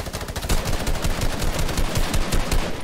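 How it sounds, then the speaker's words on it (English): Rapid, dense bursts of automatic gunfire in a Fortnite match crackle nonstop for the whole stretch, loud and close, with no talking over it. "The polar bear keeps shooting at me."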